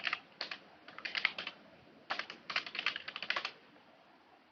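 Java code, including an import line for the Scanner class, being typed on a computer keyboard, with quick bursts of close, crisp key clicks separated by a short pause.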